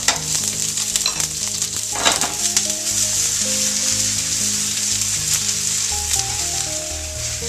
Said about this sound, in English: Now we're going to add our butter to the pan. The butter is beginning to melt.